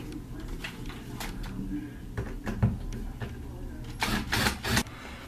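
Toggle bolts are tightened into a handrail with a tool, giving a series of sharp clicks and scraping bursts at irregular intervals, close and fairly loud, with a cluster of rapid clicks near the end.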